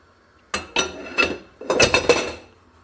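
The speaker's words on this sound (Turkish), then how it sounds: "Şöyle tenceremin kapaklarını açayım." Metal pot lids lifted and set down in a kitchen, a string of six or so sharp clanks and rattles, close and fairly loud, with short ringing decays between them.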